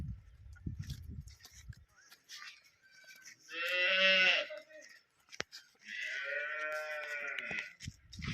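A pregnant dairy cow near calving, with a full udder, gives two drawn-out moos, the second longer, fairly faint in a quiet farm setting with brief thumps and rustling between calls.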